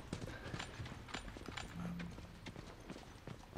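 Horse hooves clop in a quick, irregular rhythm in The Last of Us, moderately close and fairly quiet, with a brief low snort in the middle.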